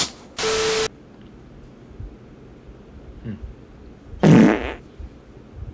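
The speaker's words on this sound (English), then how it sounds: "You just farted." Two short bursts of flatulence-like noise a few seconds apart, the second lower and rougher, with quiet background between.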